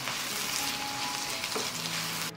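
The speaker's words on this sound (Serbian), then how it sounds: "Sve ću ovo promešati i propržit ću luk nekoliko minuta." Onions sizzle and crackle steadily in a hot pan, a soft continuous frying hiss heard alone, with a brief clatter at the end.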